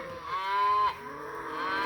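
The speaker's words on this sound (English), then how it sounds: "I mean, there's cows." Cattle moo in a grassy paddock, one long drawn-out low call rising in strength then dipping, followed by a second moo close by, with no talking.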